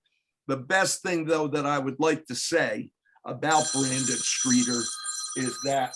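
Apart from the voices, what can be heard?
telephone ringing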